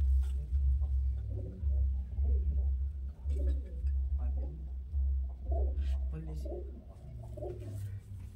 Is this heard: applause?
no